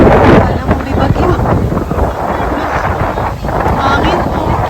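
Strong typhoon wind roars and buffets against the microphone in loud, uneven gusts, with voices partly audible beneath the rushing noise.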